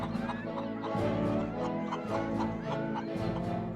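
Chickens clucking close by, a busy chorus of overlapping clucks and squawks with a rhythmic, bustling pattern.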